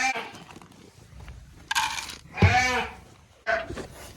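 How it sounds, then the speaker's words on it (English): Sheep in a farm pen bleat at feeding time: a few short, wavering calls break out near the microphone, one louder bleat in the middle, over quiet rustling and shuffling. "Feeding the sheep now."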